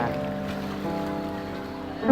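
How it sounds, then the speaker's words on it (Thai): Water rushing at Ta Thang waterfall in Laos after a typhoon, a steady broadband roar with dense continuous churning and no pauses, fairly close and uninterrupted for a couple of seconds. "น้ำตกตาทั่งเนาะ ที่ไหลมา"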